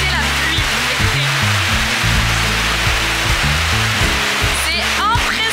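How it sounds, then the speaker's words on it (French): Heavy tropical rain pours down in a dense, constant roar on a Gili Islands shore, steady and loud throughout, with no voices. "Il pleut des cordes, on a rendu les masques tuba et on rentre. Écoutez la pluie"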